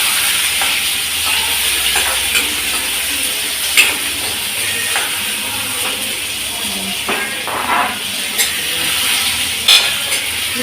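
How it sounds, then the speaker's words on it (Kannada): Steady sizzle of onion, tomato and green chilli frying in oil in a pan, with occasional stirring scrapes and clinks, fairly close, no talking. "ನೀರುಳ್ಳಿ ಟೊಮೆಟೊ ಹಸಿಮೆಣಸು ಇವುಗಳನ್ನೆಲ್ಲ ಎಣ್ಣೆಗಾಕಿ ಬಾಡಿಸ್ಕೊಳ್ಬೇಕು"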